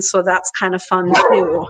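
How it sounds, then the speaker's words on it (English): A dog barks several times in short yips and bow-wows, loud and close, overlapping someone talking indoors. "My apologies about the barking there."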